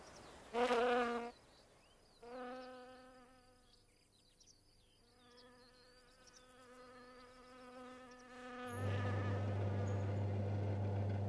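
Bees buzz among sunflowers, a steady insect drone with several overlapping wingbeat tones passing close and then fading, with a louder, broader rush of sound near the end.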